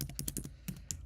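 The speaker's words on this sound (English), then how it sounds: "Y'all know I'm typing fast as I spell team" Rapid clicking of keys on a computer keyboard, fast irregular bursts of taps close to the microphone, with no talking.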